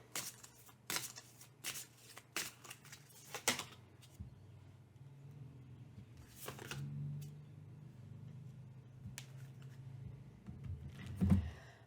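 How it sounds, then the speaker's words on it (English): Tarot cards are riffled and shuffled in quick crisp bursts, then soft handling noises follow in a quiet room. "And now I'll also shuffle and put out relationship."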